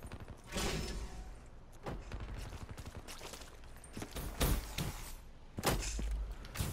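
Gunfire in the video game Call of Duty Black Ops, with bursts of shots and sharp impacts spread through the clip, fairly loud over a busy game background.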